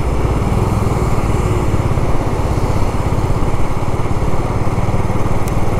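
Bajaj Avenger 220 cruiser motorcycle ridden on a long highway trip between Ranchi and Patna near the Jharkhand–Bihar border, its engine droning steadily and loudly with constant wind rush throughout, no talking.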